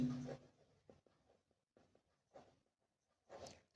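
Pen writing a maths solution by hand on paper, quiet scratchy strokes in short separate bursts with pauses between, close and faint, no talk.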